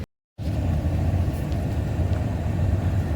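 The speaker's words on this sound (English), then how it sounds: "Here comes a truck." A truck drives past on a road near Buda, Texas, its low rumbling engine and tire noise steady and fairly close for about three seconds after a brief silent gap, with no talk.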